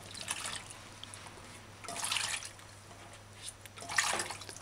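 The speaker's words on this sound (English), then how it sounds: "Now just run it over water or warm water." Vegetables such as okra and beans are rinsed under running warm tap water at a sink after a vinegar wash, a soft trickle and splash that swells and fades in a few faint bursts.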